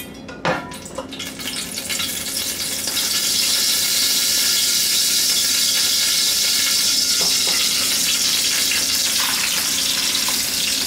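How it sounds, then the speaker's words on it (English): Pork chops searing in a pan of butter and olive oil, a loud steady sizzle that swells after a brief clatter and holds constant throughout, with no talking. "We're going to sear our pork chops."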